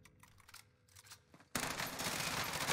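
Automatic gunfire in the Call of Duty Warzone video game, a loud sustained burst of rapid shots that erupts abruptly halfway through after a quieter stretch of game ambience.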